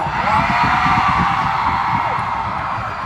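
A large crowd at a performance at PPOPCON shouts and cheers in a steady, loud roar that fills the arena without pause and fades slightly toward the end.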